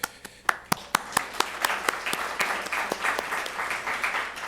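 An audience at a talk event applauds, a few distinct near claps opening before a dense, steady round of clapping fills the rest, with no voices over it.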